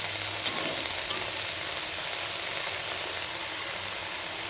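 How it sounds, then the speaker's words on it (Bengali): Red amaranth greens frying in hot oil, giving a soft, steady sizzle and hiss that carries evenly throughout, fairly quiet and close, with no voices. "এখানে গরম তেলের ওপরে শাকটা দিয়ে দিয়েছি।"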